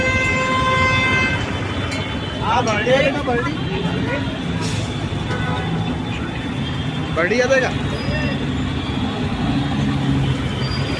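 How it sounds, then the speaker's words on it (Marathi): Traffic jam near a private bus stand with buses, autos and e-rickshaws stuck, engines rumbling continuously while horns blare in repeated bursts, some nearby and some farther off, under a constant crowd murmur. "इथे प्रायव्हेट बसेसच्यामुळे ट्रॅफिक जाम झालेला आहे"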